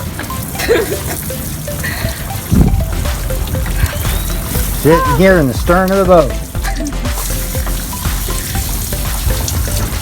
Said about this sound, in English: going to be the first one to go ahead and test the new shower